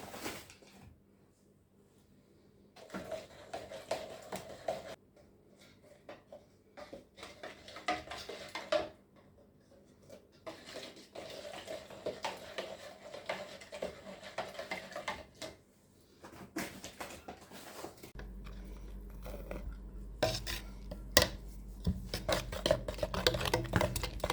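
Plaster mixture is stirred in a container, making bursts of scraping and clinking against the sides between quiet pauses, with a steady low hum joining near the end.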